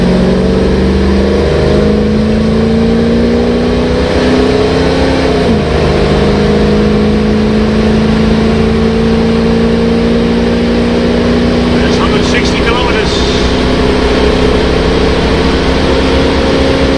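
A 1966 Ford Mustang hardtop with a 289 cubic-inch V8 accelerating hard on a test drive. A loud, continuous engine drone rises steadily in pitch, heard from inside the car with only a little talk.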